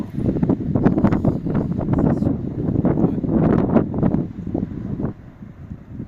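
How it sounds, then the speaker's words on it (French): Steady gusting wind buffets the microphone throughout, a constant low rumble with swelling bursts and no voices. "Il y a pas mal de vent."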